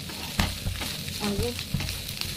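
Shrimp being stirred and fried in a pan for a shrimp mash: a soft, continuous sizzle with intermittent scraping and clinking stirs, fairly quiet and close, no talking.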